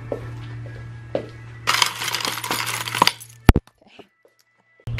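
A short metallic jingle of house keys shaken together, followed by a couple of sharp clacks and then near silence.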